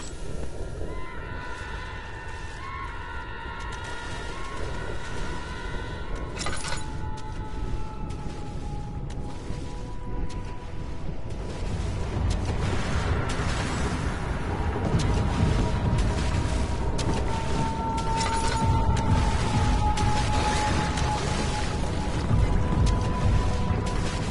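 Eerie, heavily processed scream-like tones made from a modified bassoon in the horror game Amnesia, sustained and wavering over a dense low rumble that swells steadily louder, with no voices.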